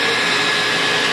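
A household vacuum cleaner runs steadily with a loud, continuous broadband whine and hum, close by and with no talk over it.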